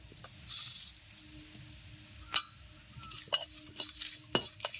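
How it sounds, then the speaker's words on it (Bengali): Cumin, coriander and dried chillies dry-roasting in a hot wok while being stirred, giving faint scattered crackles, light clinks and scraping taps that grow busier toward the end. "দেখো শুরু হয়ে গেছে চিটমিট করে ফোটা"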